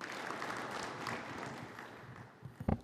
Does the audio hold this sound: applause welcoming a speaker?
yes